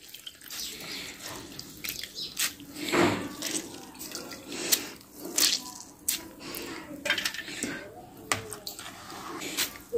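Water squeezed by hand out of washed grated potatoes, heard as repeated wet squishes and drips at close range, uneven in rhythm.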